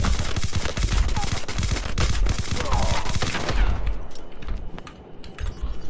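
Rapid bursts of AK-117 automatic rifle fire in Call of Duty Mobile crackle loudly for several seconds, then give way to quieter scattered clatter and movement.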